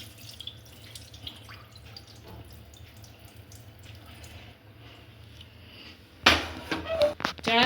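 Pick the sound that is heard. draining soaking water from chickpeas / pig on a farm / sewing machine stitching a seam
draining soaking water from chickpeas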